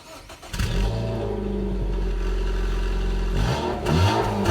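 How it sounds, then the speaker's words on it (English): A 2016 Dodge Dart SXT car pulls away and drives, its engine rising to a steady mid-pitched hum with a brief rev near the end, heard from inside the cabin, loud and continuous with no talk. "so driving the 2016 Dodge Dart SXT"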